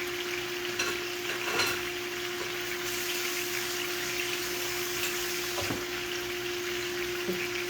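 Pork chops with fresh rosemary, thyme and basil cook in a pan with a steady, moderate sizzle. An occasional scrape or clink cuts in, and a faint constant tonal hum runs beneath.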